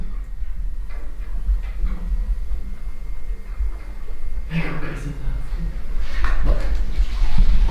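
Water suddenly gushes from a boiler in a house cellar, a continuous rushing hiss that swells louder toward the end, with voices reacting nearby.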